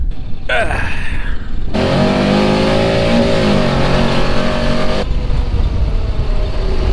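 A 2021 Honda Pioneer 700 farm buggy pushes through mud, its engine revving loudly for a few seconds with a rising and settling tone, then dropping back to a quieter drone.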